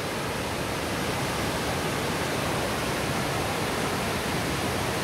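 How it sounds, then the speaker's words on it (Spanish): The Velo de Novia waterfall at El Chiflón roars as a steady, broadband rush of falling water, loud and unbroken throughout, with no voices. "Vamos a acercarnos más a la cascada Velo de Novia."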